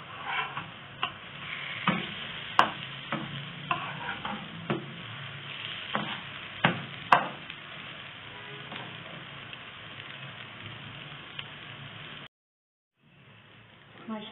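Shalgam (turnip) chapli kababs fry in a pan with a steady close sizzle and sharp spatters and pops at irregular intervals, then a sudden brief silence before the sizzle resumes more softly.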